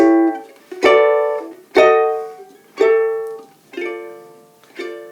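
Five plucked ukulele chords strummed one beat apart, each ringing briefly before the next, stepping upward in a short steady walk.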